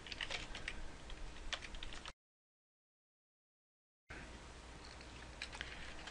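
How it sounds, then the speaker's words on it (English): Hand typing on a computer keyboard, a quick run of soft, close key clicks that stops for a two-second silent gap and then resumes, with no voices. "we're going to basically hand type these GUIDs in there"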